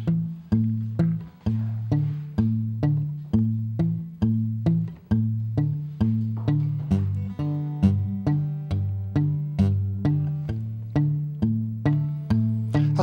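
Acoustic guitar picks a steady alternating bass line for a Delta blues song, thumb notes thumping evenly with no chords, close and clear throughout.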